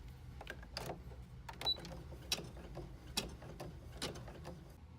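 An embroidery machine sews an appliqué tack-down stitch, producing faint, quick mechanical ticks and clicks in an uneven rhythm over a low, quiet hum, without any voices.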